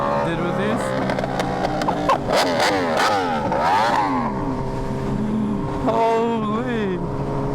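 A Yamaha R1M sport motorcycle engine revs hard and loud nearby, rising and falling through several throttle blips with a steady idle underneath, alongside the engine of a Kawasaki Ninja H2.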